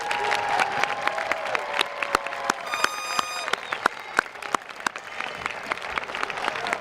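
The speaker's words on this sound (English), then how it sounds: "let us put our hands together and give you all another big round of applause." A commencement audience gives the graduating class a sustained round of applause, dense clapping filling the hall for several seconds with a few sharper claps standing out and faint crowd murmur beneath.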